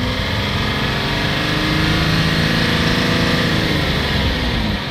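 A Jaguar XF 3.0 engine holds a steady, loud drone throughout, its pitch rising slightly as the revs climb.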